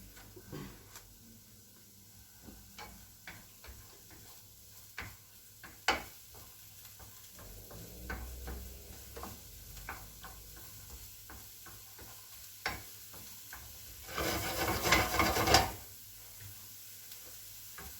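Onions fry over high heat until golden, giving a low, steady sizzle with scattered ticks and utensil taps, then a louder burst of hissing and scraping as they are stirred near the end; no speech.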